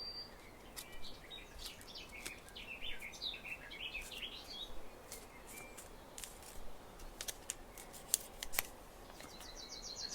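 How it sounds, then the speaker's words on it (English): Origami paper being folded into a nightingale, crisp close crinkles and sharp creasing snaps in irregular bursts, with faint bird-like chirps in the background and no talking. "Again, just fold this over and this part down."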